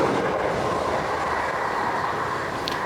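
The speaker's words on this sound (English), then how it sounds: "So that train that just left was the train to Hastings." A Southeastern train rumbles steadily through a station, a continuous close roar of wheels and motors without a break, with a brief faint high squeal near the end and no voices.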